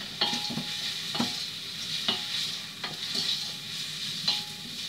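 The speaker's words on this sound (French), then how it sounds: "On va rajouter avec les oignons maintenant qui commencent à dorer le jambon végétal" Vegan ham and onions that are starting to brown sizzle steadily in a pan for vegan Cantonese fried rice, with several distinct scrapes and clacks of a utensil stirring them at irregular intervals.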